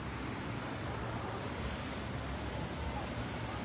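Cold wind blowing outdoors as a steady, broad rush of noise buffeting close against the microphone, continuous and even throughout.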